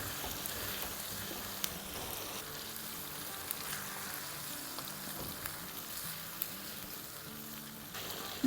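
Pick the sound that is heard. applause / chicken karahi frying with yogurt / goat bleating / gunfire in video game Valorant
chicken karahi frying with yogurt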